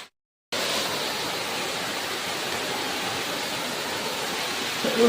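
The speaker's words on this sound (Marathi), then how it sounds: "हा बघा हा आहे वॉटरफॉल" A steady, loud broadband roar of rushing water that starts abruptly after a brief silence and holds constant, like a nearby waterfall.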